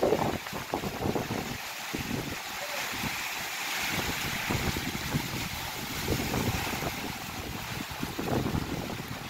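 Steady roaring wind with a constant wash of heavy rain in Quixadá, Brazil, buffeting the microphone in gusts; no voices.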